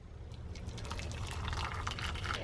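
Freshly boiled water poured into a cup over a squeezed lemon wedge, a steady rushing, bubbling fill sound that holds evenly for a couple of seconds.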